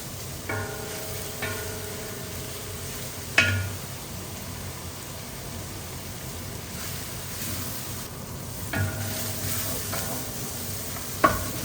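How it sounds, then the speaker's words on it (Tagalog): Thai pork green curry gets stirred in a pot, a soft continuous sizzle with a few scraping strokes of the spoon, quiet and close. "Yan, tuloy-tuloy ang ating halo."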